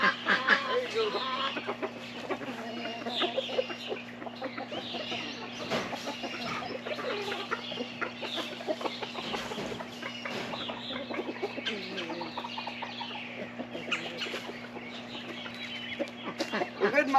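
A flock of young Breese chickens, both 4-week-old and 15-week-old birds, cluck and chatter steadily at close range in a farmyard, a dense continuous chorus with ducks faintly mixed in.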